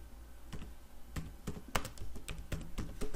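Typing a git clone command on a computer keyboard, with a quiet, irregular run of close key clicks and taps, some in quick pairs, heard alone without speech.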